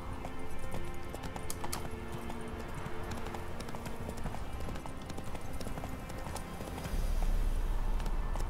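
Roach the horse gallops in The Witcher 3, a steady drumming clip-clop of hooves that runs without pause throughout, close and fairly loud over a low ambient bed.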